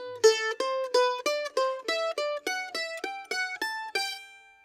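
A mandolin plays a thirds exercise up in the second octave: about a dozen clear, evenly spaced picked notes stepping up and down in a regular rhythm, bright and close, with no talking.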